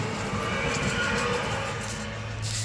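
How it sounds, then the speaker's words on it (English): A passing train makes a continuous, fairly loud broadband rumbling roar that holds steady through the whole stretch, with no talk over it. "There's a train coming by."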